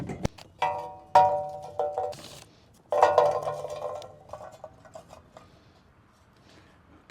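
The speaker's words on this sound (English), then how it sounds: "the first thing we'll do is load this thing up with charcoal" Charcoal being loaded into a Son of Hibachi portable grill, a series of sharp clinks and clattering tumbles of lumps against metal, several bursts with quieter gaps between them, close by.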